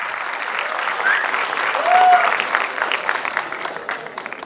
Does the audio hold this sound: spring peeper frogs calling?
no